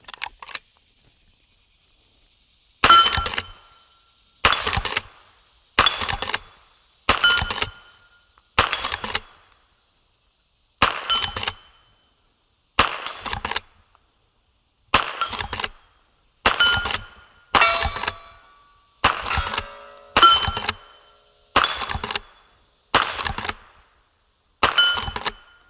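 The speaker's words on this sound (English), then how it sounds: "let's put a few rounds on target." A .22LR rifle fires a string of about fifteen sharp reports at a steady, fairly quick pace. Each shot is loud and close, with a short ringing decay, after an opening stretch of near silence.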